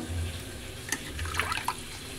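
Large bochha fish are rinsed clean in water, with close splashing, sloshing and a few distinct drips over a steady watery background.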